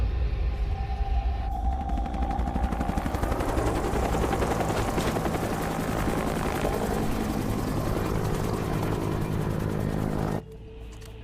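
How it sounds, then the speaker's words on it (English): Two Mi-28 attack helicopters in a war video game pass overhead, their rotor and engine roar loud and continuous with rapid chopping, ending abruptly into a quieter background. "Just had 2 Mi-28s fly by."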